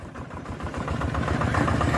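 A second-hand RT140 diesel engine runs steadily nearby, a rough mid-to-low chugging that grows slightly louder over two seconds, with no talk over it.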